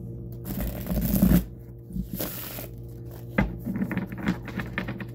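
Tarot cards being shuffled in a few soft, close papery bursts, with quiet gaps between them.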